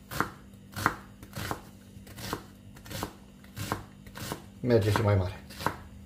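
Knife chopping an onion on a cutting board for a Hungarian-style bean soup, a slow, regular series of close, crisp thuds, with a few short words spoken and a busier scraping burst near the end.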